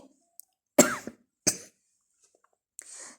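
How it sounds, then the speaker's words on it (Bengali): A person coughs in a home kitchen, with two sharp, close coughs followed by a softer throat-clearing burst after a pause, and near silence between them. "সরি আমার একটু কাশি কাশি হয়েছে"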